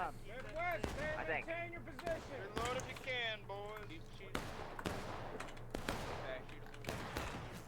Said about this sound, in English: Yeah, keep up the fire.